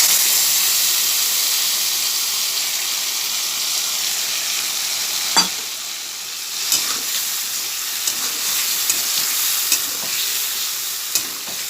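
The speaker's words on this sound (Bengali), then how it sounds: "মশলাটা একটু ভাজা ভাজা হবে।" Spice paste frying and being stirred in a pan, cooked after potatoes for a potol and shrimp dish: a steady, close sizzle and hiss with a few sharp scraping stirs breaking through, and no talking.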